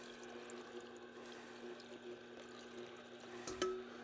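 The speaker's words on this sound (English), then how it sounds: "Here's the coconut water I'm putting back in." Coconut water being poured back into a NuWave cooking setup while making a piña colada, a steady close liquid trickle running throughout with a brief clink near the end.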